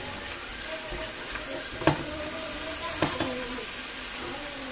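Food browning in a frying pan alongside sautéed mushrooms, giving a steady close sizzle with a couple of brief stirring or flipping knocks.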